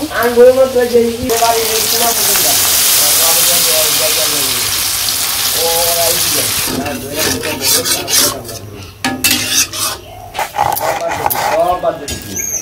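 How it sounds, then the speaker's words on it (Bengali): Water poured into a pot of sizzling braised meat sets off a loud rasping hiss and bubbling, with someone speaking over it and scraping, stirring noises following. "তো আমার মাংসটা কষানো হয়ে গেছে, আমি জল দিয়ে দিব।"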